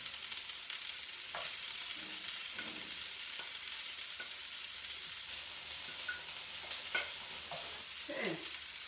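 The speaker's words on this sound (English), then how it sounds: "Saute away there. Just try to get all the carrots." Carrots sauté in a pan for a vegetable stir fry, giving a steady low sizzle and hiss with occasional scraping stirs and brief clinks, fairly quiet and with no talking.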